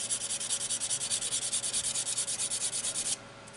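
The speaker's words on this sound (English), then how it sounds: "I'm just going to sand all those edges nice and smooth" Sandpaper rubs back and forth over the edges of a stone diorama piece in quick, even strokes, about a dozen rhythmic scrapes up close before stopping.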